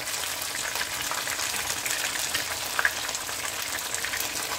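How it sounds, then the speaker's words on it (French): Fish with ginger frying gently in a pan on low heat, a steady soft sizzle throughout with one small clink near the end. "Je laisse le poisson cuire doucement, doucement."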